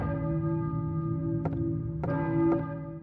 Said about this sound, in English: the tolling of the bells at least directs us to a new location we can head towards